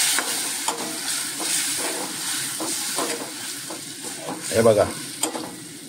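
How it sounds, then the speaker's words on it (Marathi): Mangoes being stirred with curry leaves in a hot pan for a Konkani raw-mango dish, giving a steady frying sizzle with soft scraping strokes and one louder clatter near the end, with a brief spoken phrase over it. "त्याच्यामध्ये आपले हे आंबे हे घालायचे आणि व्यवस्थित हे असं ढवळून घ्यायचं आहे"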